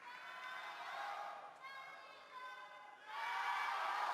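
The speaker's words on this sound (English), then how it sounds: "some of the Polish crowd representing Europe cheering for Stefan out here as well" Crowd cheering and shouting at a table tennis match pitting Stefan Fegerl of Austria against Zhang Jike, with Polish fans backing the European player; a steady, fairly loud arena roar that swells toward the end.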